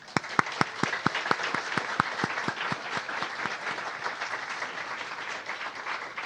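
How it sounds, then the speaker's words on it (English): Audience applause at an award event, a dense crowd clapping loudly with sharp individual claps standing out early before settling into a steady wash. "Let's make a big applause to you."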